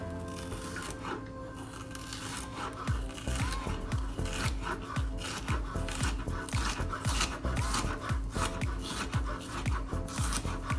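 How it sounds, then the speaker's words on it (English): A knife cuts thin slices on a cutting board while saltfish fritters are prepared, producing a quick run of regular, close, crisp chops after a short quiet start. "So we're gonna cut some thin slices."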